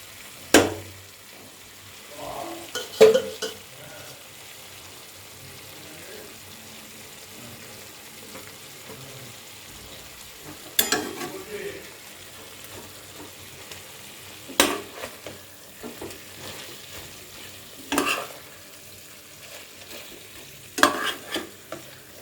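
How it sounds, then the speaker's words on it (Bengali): Fenugreek leaves go into a simmering chicken curry and are stirred, giving intermittent bursts of scraping and sizzling every few seconds over a quiet, low bubbling background. "তো এই সময় আমি এই শাকটা দিয়ে দিচ্ছি।"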